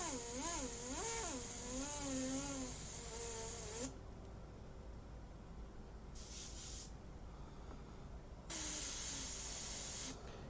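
Airbrush spraying paint on a portrait, a faint continuous airy hiss with a few brief stronger bursts, heard alongside a warbling whine in the background.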